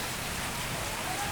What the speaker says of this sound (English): The rain still.